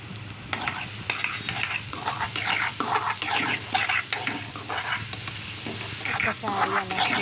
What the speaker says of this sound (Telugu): ఇప్పుడు మనం క్యారెట్స్ వేసేసుకుందాం